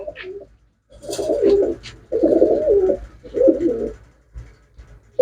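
Pigeons coo repeatedly at a pigeon sale, several throaty bursts close by with short gaps between them, and no one speaking over them.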